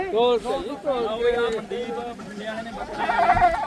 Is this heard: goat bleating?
yes